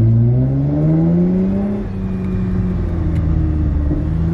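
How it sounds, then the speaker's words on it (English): A Toyota TRD truck engine with custom dual exhaust tips revs up with a deep, rising exhaust growl, eases off, then holds a throaty rumble close by, no voices. "It's just bigger tips, dual exhaust, and it just sounds so much better,"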